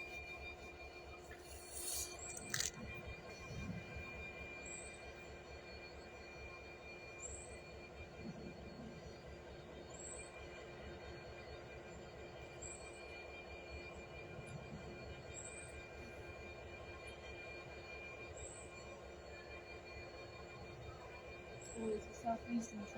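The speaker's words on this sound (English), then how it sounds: "First freight train of the day, not bad." A freight train rolls through Tonbridge station, a long steady rumble of wagons and wheels with faint periodic squeals, heard from the platform at moderate distance for over twenty seconds.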